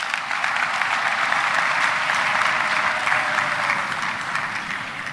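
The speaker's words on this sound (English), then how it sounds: "give the class of 2026 a resounding round of applause" Graduation ceremony crowd at Cavendish University gives the class of 2026 a sustained round of applause, a dense, even wash of many hands clapping at moderate distance.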